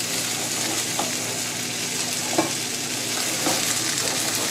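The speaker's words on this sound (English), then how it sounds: "keep stirring" Scrambled eggs stirred in a hot pan give a steady close sizzle, with soft utensil scrapes breaking through now and then and no talk.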